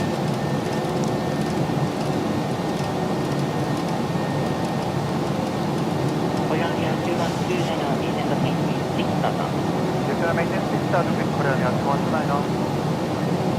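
Steady broadband roar of a PMDG Boeing 737-800 jet climbing out in Microsoft Flight Simulator 2024, continuous and loud throughout, with faint chirpy cockpit sounds flickering over the drone near the end.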